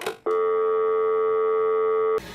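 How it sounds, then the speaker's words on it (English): A steady telephone dial tone hums for about two seconds, one continuous unbroken pitch starting and stopping abruptly. "a dial tone sounds like this."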